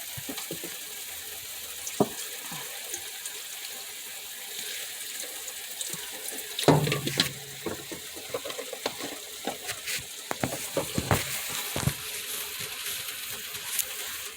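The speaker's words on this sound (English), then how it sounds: "This is where I start adding the beef broth into the blender." Beef broth pours from a container into a blender with beans, a soft, trickling liquid splash with a few louder clinks and knocks, fairly faint and close.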